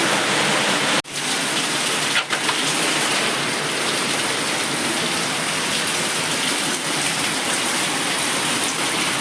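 Heavy monsoon rain pours down steadily, a dense, loud, unbroken roar of water with only a couple of brief dips, and nobody speaks.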